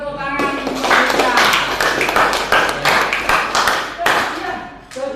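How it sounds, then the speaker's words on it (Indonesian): Applause breaks out for Mika in a classroom: a short burst of many hands clapping close by, dense and uneven, with a few voices talking over it. "tepuk tangan untuk Mika"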